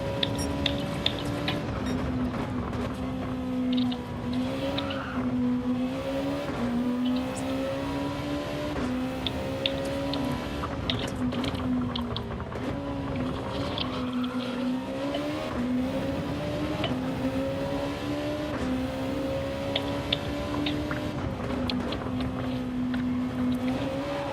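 Race car engines in the Gran Turismo 7 racing game drone continuously at high revs, the pitch rising and falling in repeated waves through gear changes and corners, loud and steady for the whole stretch.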